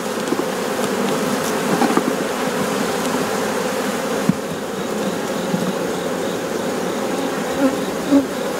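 Honey bee colony buzzing in an open hive during a September inspection, a dense, steady hum of many bees close by with no talk.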